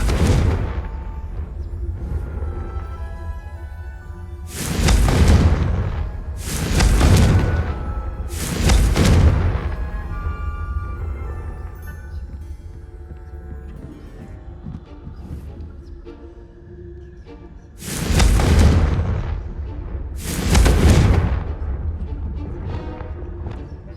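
Booming magical fire-spell explosions from the video game Hogwarts Legacy on PS5, five heavy blasts in two clusters with quieter rumbling background between them.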